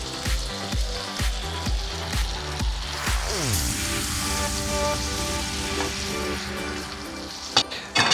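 Garlic hits hot butter in a pan and sizzles, starting with a few sharp crackling bursts that settle into a steady, close frying hiss.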